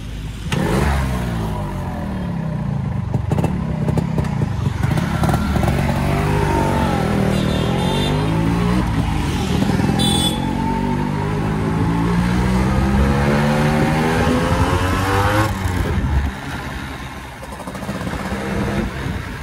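A Yamaha RX two-stroke motorcycle with a tuned engine starts and revs close by, its buzzy exhaust rising and falling through repeated throttle blips before settling lower near the end.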